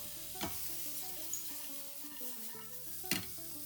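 Chopped garlic with a little water sizzles steadily in a pan while a utensil stirs it, with two sharp scraping knocks against the pan over a constant close hiss.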